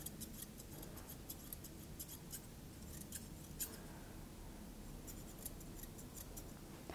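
Scissors snip quickly and softly through a Moodle's coat as its round head is trimmed, making clusters of light, crisp clicks close by against a quiet background.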